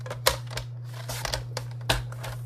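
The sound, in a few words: cutting designer paper for card making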